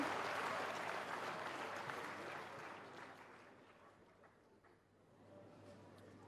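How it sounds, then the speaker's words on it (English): Audience at a university convocation ceremony applauding steadily, a dense wash of clapping that gradually fades and then swells slightly again near the end. "Another round of applause for the Pro-Chancellor and the Chairman of Governing Council."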